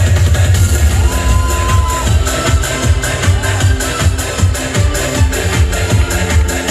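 A street crowd claps and cheers for a fire-eating act by a travelling pumba troupe at the Wonju rose festival, loud, dense and unbroken, mixed with crowd noise and voices.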